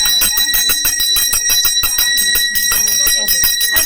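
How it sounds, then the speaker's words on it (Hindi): A temple bell rings in a Pahadi hill temple during a Gaura Maheshwar ceremony where rice is thrown, struck in a fast, steady run of bright clangs throughout, with voices murmuring in the background. "घंटी बजाए।"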